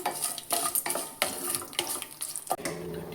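Dried red chillies, curry leaves and cashews frying in hot oil as a tempering, a close crackling sizzle broken by sharp metallic scrapes and clatters of stirring in the pan.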